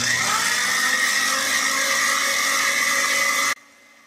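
Electric beater whirring steadily as it blends mango puree into a condensed-milk ice cream mix, a continuous close motor drone that cuts off abruptly near the end.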